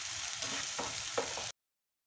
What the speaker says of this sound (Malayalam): ഇതേ വെളിച്ചെണ്ണയിൽ തന്നെ സവാള നല്ല ബ്രൗൺ നിറമാവുന്നതുവരെ ഇത് ഫ്രൈ ചെയ്തെടുക്കണം